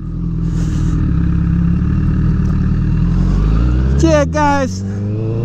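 A motorcycle ridden at steady speed, its engine drone and wind rush loud and close throughout, with a rider speaking briefly over it near the end.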